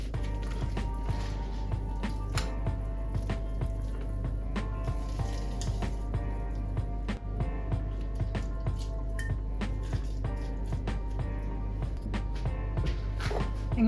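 Water drains from grated cucumber as it is squeezed, with steady irregular drips and small wet splashes over a constant low hum, close and fairly quiet.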